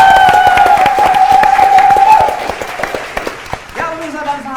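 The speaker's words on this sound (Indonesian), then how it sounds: "tepuk tangan dulu untuk kedua tim" Studio audience applause for two teams on an Indonesian TV quiz show, loud clapping under a held musical tone, fading after a couple of seconds as music continues.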